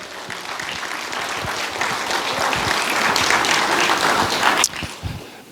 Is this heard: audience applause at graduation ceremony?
yes